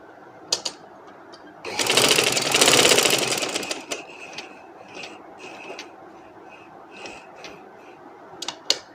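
An electric sewing machine stitches fabric for a designer dress with square sleeves. It runs loudly in a single burst of about two seconds, then gives way to quieter handling and rustling noises.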